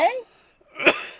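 A person coughs once amid sore muscles, the sharp burst arriving near the end after a brief vocal groan at the start, close and fairly loud in a quiet room.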